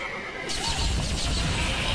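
A horse in a Nintendo game trailer lets out one loud, close neigh that rises and trembles, over dense music and effects.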